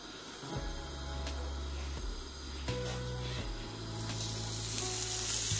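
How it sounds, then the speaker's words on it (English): Food sizzles steadily in a hot pan during home cooking, a constant crackling hiss with occasional stirring scrapes and clatter, fairly close and continuous throughout. "A bit of sizzle here"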